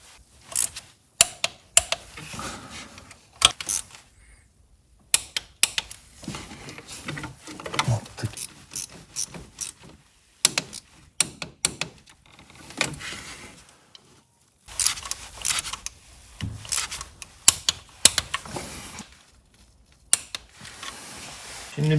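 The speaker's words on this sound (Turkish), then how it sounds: "Şimdi bütün cıvataları 10 Nm ile sıktım." A torque wrench ratchets in short bursts of rapid clicking while tightening the water pump bolts on a VW group 1.0/1.2/1.4 TSI engine. The clicks come close and clear, separated by pauses and brief handling noises.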